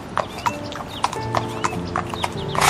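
A king's horse gallops in a cartoon, its hooves clip-clopping in a quick, regular rhythm of sharp, close strikes with no voices over them.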